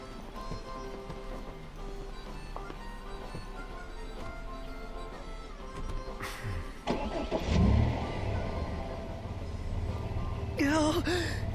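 Car engine cranking and catching in the video game Final Fantasy XV, following quiet game ambience and music, a rumbling start that settles into a steady idle, with a short vocal gasp near the end.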